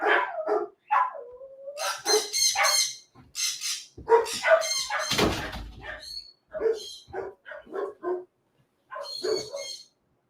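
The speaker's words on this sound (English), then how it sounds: "I just want to turn off those dogs by closing the door." Several dogs bark behind a closed door in a home, sharp repeated barks and yips coming in bursts throughout, fairly loud and with no talking over them.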